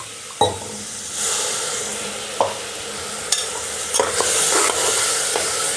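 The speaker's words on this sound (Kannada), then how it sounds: "ಮಸಾಲೆ ಎಲ್ಲ ಹಾಕಿದ್ಮೇಲೆ ನೀಟಾಗಿ ತಿರ್ಸ್ಕೊಳ್ಳೋಣ" Masala frying in a pan for vegetable pulao, stirred steadily with a spoon, gives a close, continuous sizzle broken by a few sharp scrapes and clacks against the pan, with no talking.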